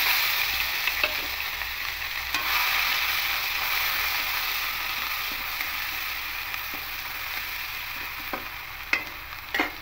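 Onion paste frying in hot oil with dry chillies and bay leaf, a dense continuous sizzle with occasional ticks and scrapes of stirring, close up and without speech.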